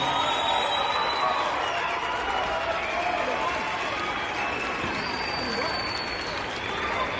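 An audience at an evening concert gives a steady round of applause for the Military Police band, a continuous crowd clapping that holds evenly throughout, broad and moderately loud.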